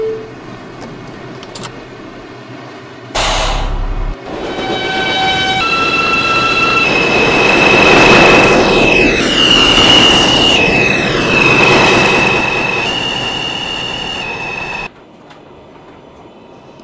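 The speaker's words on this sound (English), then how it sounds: "This is a Brooklyn College Flatbush Avenue bound 5 train." Subway train in the Roblox IRT metro game, a 5 train bound for Brooklyn College Flatbush Avenue, departing with a thud, then a rising motor whine, rumbling wheels and squeal that swell loud before dropping away abruptly.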